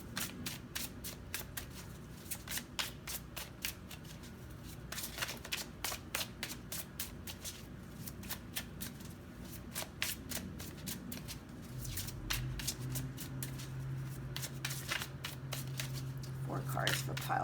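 Tarot cards are shuffled and handled continuously, with rapid riffling bursts and soft slides between them. A quieter low hum runs beneath the shuffling toward the end.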